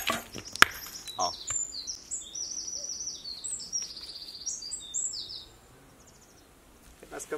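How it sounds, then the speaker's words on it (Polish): High, rapid warbling birdsong, likely a skylark, trills and chirps continuously for several seconds, fairly faint and distant, after a sharp click at the start. "Chyba skowronek."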